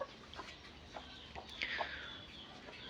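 Chickens clucking softly at a farm chicken house, a few scattered clucks at a distance over a low background hum.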